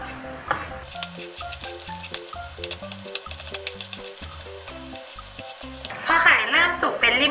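Steady crackling sizzle of Thai-style scrambled egg frying in a hot pan, yolk broken with a spatula, with scraping spatula strokes and clinks throughout, and a louder burst of sizzling near the end.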